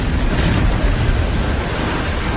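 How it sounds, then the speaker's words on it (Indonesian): Continuous roaring blast of an ice explosion in the animated series Soul Land, a dense, loud rumble sustained evenly from start to end with no pauses. "Yuho mengaktifkan ledakan es yang sudah dia susun di bawah Long Xiaoyao hingga menyebabkan ledakan dahsyat terjadi bertubi-tubi"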